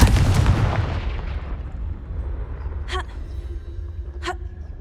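A Confringo blasting spell in Hogwarts Legacy goes off as a loud, close burst with a heavy low-end boom that decays over about two seconds, followed by two brief sharp crackles.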